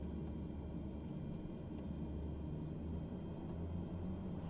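An airplane engine in Microsoft Flight Simulator 2024 drones as a steady, low rumble that holds at an even level without change.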